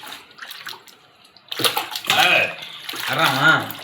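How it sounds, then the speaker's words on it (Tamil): Seawater poured from a container to wash snakehead fish, a watery splash and gush rising in two main bursts after a quiet start, with people talking over it. "அந்த தண்ணி கடற்கரை தண்ணியை சுத்தமாக எடுத்துட்டு ஊற்றணும்டா"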